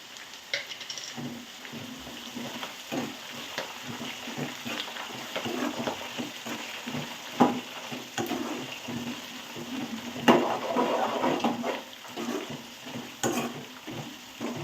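Curry leaves and garlic fry in oil in a pan for a traditional North Karnataka dish, giving a steady, close crackling sizzle with small stirring clatters and brief louder bursts of popping.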